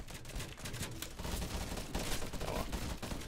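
Rapid gunfire from the video game Crowz, beta version, rattles almost continuously throughout, a loud, dense stream of machine-gun style shots.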